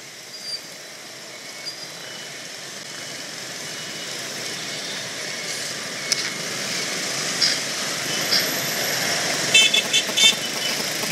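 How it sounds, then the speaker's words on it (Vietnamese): Jammed traffic of cars and motorcycles on a Saigon street, a steady dense rumble of engines close by with scattered short horn toots rising toward the end. "Trời ơi, bên Võ Thị Sáu, Hiền Vương kẹt xe quá trời luôn anh chị."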